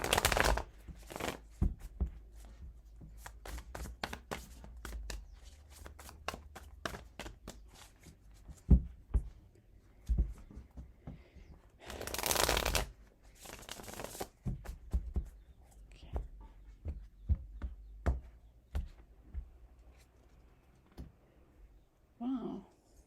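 Tarot cards are shuffled by hand in quick bursts of riffling and rapid slaps, with pauses between rounds and a loud riffle partway through; the sound is close and dry, with little speech.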